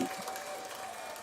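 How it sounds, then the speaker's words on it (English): Brief, soft applause from a small studio audience at a podcast taping, a short patter of hands under faint background noise. "Thank you for the applause"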